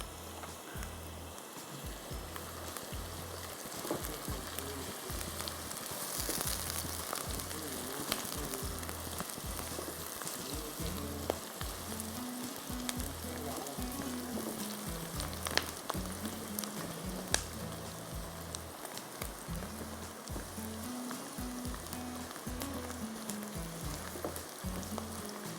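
Onions frying in a pan for a Schezwan chicken dish, a steady close sizzle and crackle with spattering oil and occasional stirring scrapes throughout.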